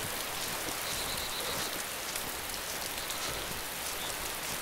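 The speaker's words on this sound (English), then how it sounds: "Oh, bloody rain again." Steady hiss of rain pouring in the DayZ survival video game, a dense even wash of falling drops that holds constant throughout with no voices.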